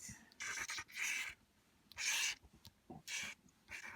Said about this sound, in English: Sorry for the scratching noise.